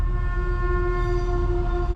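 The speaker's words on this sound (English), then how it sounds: "Got to wait for the train." A train passes close by at a road crossing, its horn sounding one loud, steady chord that holds without a break over a heavy rumble of rolling wheels.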